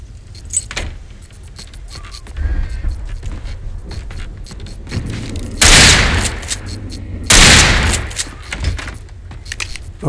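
Two loud, close gunshots fired at a barrel that does not explode in the video game Alan Wake Remastered, each a sharp blast about two seconds apart, over quieter game ambience.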